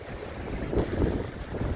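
Cold winter wind buffets the microphone while flounder fishing during a severe cold-wave advisory, a steady low rumbling roar that swells and gusts throughout with no talking.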